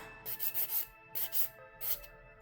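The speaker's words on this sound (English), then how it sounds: "let's see if we can buff this down a little bit. Make it smooth." A hand file buffs a polygel nail smooth in short, quiet rasping strokes, a quick run of four followed by two more separate passes, close and alone.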